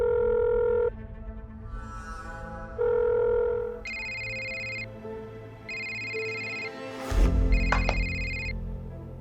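A telephone rings for an incoming call in a drama scene, several clear electronic ring bursts repeating with short pauses, fairly close, with no talk over them.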